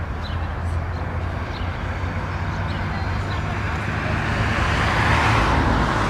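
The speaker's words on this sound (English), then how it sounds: "I can't hear you with the traffic." Road traffic passes on a roadway as a steady, loud, broadband roar that swells toward the end, with no speech over it.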